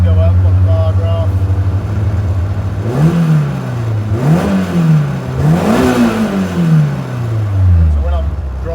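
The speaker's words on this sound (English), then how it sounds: "if I just rev it, you can see the revs go up on the bar graph" A Renault Twingo R2 rally car engine idles low, then revs up and down in three or four rising surges before settling, loud and close, with faint talk underneath.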